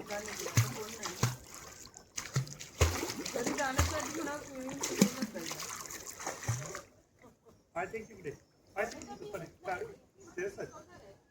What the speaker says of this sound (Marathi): ते पूर्ण पाणी उडवते